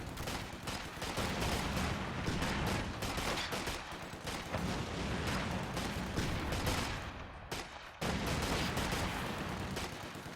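Rifle grenades and other gunfire from a Company of Heroes 2 battle, a dense, continuous barrage of loud booms and shots with barely any pause apart from a brief dip near the end.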